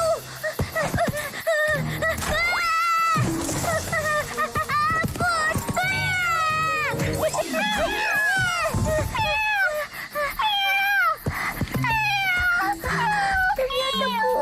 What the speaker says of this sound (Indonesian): Ternyata kucing.